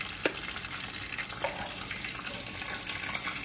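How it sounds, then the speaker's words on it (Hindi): Food fries in a nonstick pan for Ramadan iftar snacks, making a soft, steady sizzle with occasional light clicks, heard faint and at a distance with no talk. "चलिए बाकी के भी फ्राई करते हैं"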